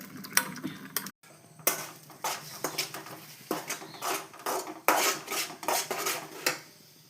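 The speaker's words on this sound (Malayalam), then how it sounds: "അങ്ങനെ ഞാൻ മുട്ടയൊക്കെ ചിക്കി എടുത്തുക്കണം കേട്ടോ" Eggs being scrambled in a pan, rapid rhythmic clinks and scrapes of a utensil against metal, close and irregular, with a brief gap near the start and no speech.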